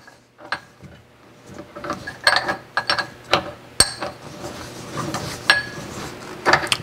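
A Shars speed vise fitted with a 3D printed handle being tightened in a workshop, giving a string of close metallic clicks, clanks and ratcheting knocks at irregular intervals, moderately loud with no talk.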